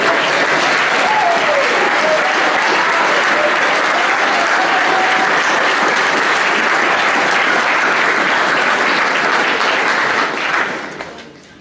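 Sustained applause from an audience at a school prize giving for award winners, loud and dense clapping throughout before tapering off at the end, with a voice faintly underneath.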